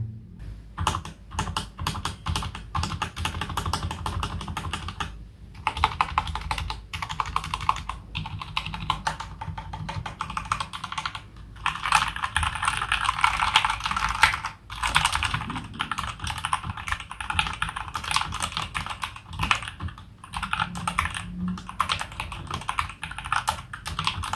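Continuous typing on an RK918 mechanical keyboard with red switches, a dense patter of soft clacks with brief pauses, close and fairly quiet.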